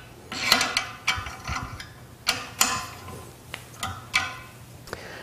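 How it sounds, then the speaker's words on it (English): Fence fasteners on a Laguna 1412 bandsaw are tightened by hand in a series of close ratcheting clicks and metallic ticks, arriving in short uneven bursts with quiet pauses between. "And then re-secure the fasteners."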